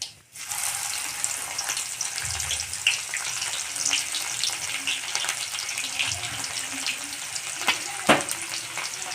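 Cumin seeds crackle in hot oil for a dry fenugreek leaf (methi) bhaji, a steady dense sizzle with a few sharper pops and occasional low thumps of the pan, heard alone and close.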